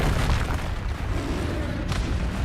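A Confringo fire spell explosion in the Hogwarts Legacy video game, a loud, dense rumbling boom filling the whole clip with a brief sharper burst near the end.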